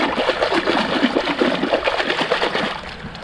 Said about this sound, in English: Give it a little shake in the water and let's see what we get.